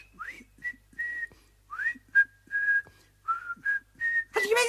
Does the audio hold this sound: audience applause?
no